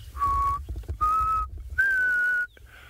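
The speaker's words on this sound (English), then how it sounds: "I can hear a black cuckoo" A black cuckoo calls near a river in the African bush, giving three loud, clear, drawn-out whistled notes in a rising sequence, each about half a second long, over a faint low rumble.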